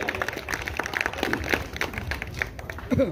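A crowd applauds steadily, a dense patter of many hands clapping at once, moderately loud and continuous throughout.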